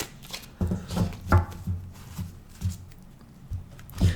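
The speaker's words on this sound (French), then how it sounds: "je vais faire un tirage de 9 avec le tarot" Tarot cards are shuffled by hand for a nine-card reading: repeated soft riffling slaps and papery flicks in an uneven rhythm, close and moderately loud, with no talking.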